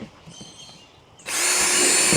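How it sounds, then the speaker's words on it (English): A power drill bores holes around the upper rim of a plastic worm bin container; a quiet start gives way to a sudden loud, steady high whine that holds to the end, close up. "I'm just going to go ahead and bore some holes around the upper edging of this container"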